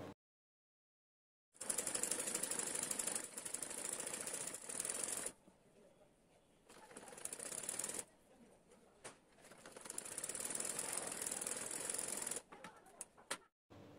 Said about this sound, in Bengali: এবার আমি নিচের পার্টেও সেলাই করে নিব।